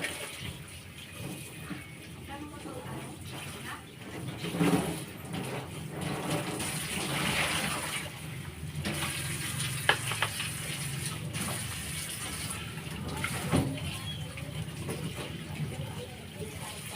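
Tap water running steadily for washing, a continuous close splashing rush with occasional clatters, and a voice talking faintly now and then underneath.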